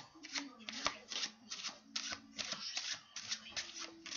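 Playing cards shuffled French-style during a magic trick, a steady run of crisp riffling bursts repeating about twice a second, close and clear, with faint talk beneath.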